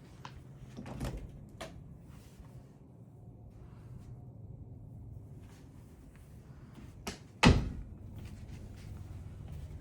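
A closet door in a second bedroom of a DR Horton Sabal floor plan townhome is pulled open with a single loud close thunk near the end, after quiet room tone with faint handling noises.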